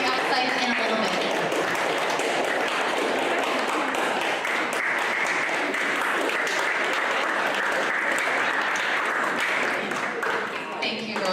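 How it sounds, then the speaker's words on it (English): Sustained audience applause fills a soccer awards ceremony, a dense, steady clatter of many hands clapping continuously throughout with a faint voice underneath. "Can I get a round of applause?"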